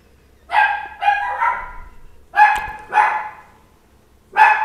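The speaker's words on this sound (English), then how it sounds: "Fucking dog barking." A dog in the video game Elden Ring barks sharply and loudly, about six barks in uneven pairs and singles with short gaps between them, close and clear against near silence.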